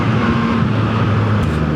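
Yamaha MT-09 V4 motorcycle (2024) riding up a mountain road at Genting, its engine holding a steady, loud drone with a constant low hum, close and continuous, with no talking.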